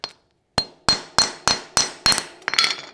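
A hammer strikes a pinewood derby car axle in seven or eight sharp, ringing metallic taps spaced about a third of a second apart, close and loud, with no talking.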